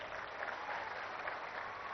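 An audience applauds at a public Swarna Andhra - Swachh Andhra event, a steady burst of many hands clapping at moderate distance for the whole moment.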